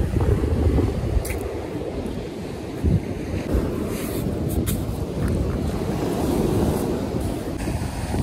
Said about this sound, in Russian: Вот это дует.